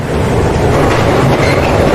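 A train rolls along the rails with a loud, continuous rumble and a faint rhythmic clatter of wheels, steady throughout with no voices.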